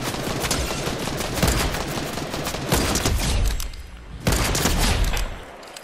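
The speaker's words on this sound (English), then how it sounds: "those shots were quick and fucking badass" Gunfire in the video game Fortnite, loud and close: rapid overlapping bursts run almost continuously, broken by brief gaps, with no talk over them.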